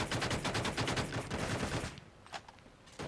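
Rapid gunfire in an online ranked-match video game sounds as a dense burst of repeated shots for about two seconds, then a few scattered single shots.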